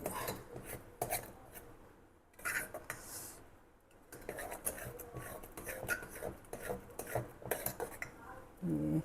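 Thick lentil dal being mashed in a pot while cooking, giving repeated scraping and knocking of a utensil against metal in irregular bursts, close and moderately loud, with a short pause midway.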